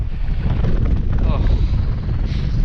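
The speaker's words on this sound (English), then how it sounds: "Oh, that's windy." Loud, steady wind buffets the microphone on a hike with a rumbling roar that holds throughout with no letup.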